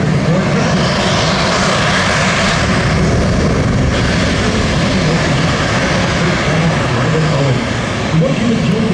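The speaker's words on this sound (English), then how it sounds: "this concludes today's C-17 flight demonstration" A C-17 Globemaster III military transport roars past at an air show demonstration, a loud continuous wash of engine noise with a public-address voice speaking over it.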